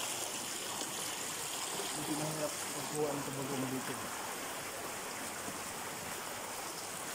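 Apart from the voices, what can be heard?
mountain stream water flowing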